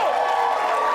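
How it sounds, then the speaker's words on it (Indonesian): Studio audience applauding for Budi Dalton on an Indonesian TV talent show, a steady continuous wash of clapping and crowd noise at even loudness with no pauses. "tepuk tangan buat Budi Dalton"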